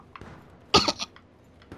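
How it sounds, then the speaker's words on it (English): A man playing Battlefield 4 on Xbox One clears his throat once, a short rough burst close to the microphone, with quiet background sound around it. "Excuse me while I clear my throat."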